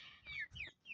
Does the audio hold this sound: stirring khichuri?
no